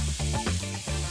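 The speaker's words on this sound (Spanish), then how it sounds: "te voy a dejar cocinar la cebolla un momento" Onion frying in a Royal Prestige pan, a close, steady sizzle over 1.2 seconds, overlaid by tonal hum-like layers, with no voices.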